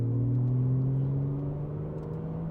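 A Porsche 911 Targa's naturally aspirated engine hums and rumbles steadily while driving, a low raspy tone that eases slightly in pitch, heard from inside the car with no talk.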